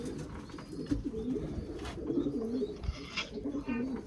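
A pigeon coos in several soft, repeated phrases, fairly close, over a faint background of other birds chirping and light ambient noise.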